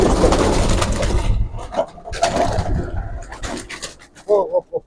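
Pigeons, including blue Nuremberg pigeons, coo and rustle close by amid wing flaps and scuffling, with a burst of cooing near the end.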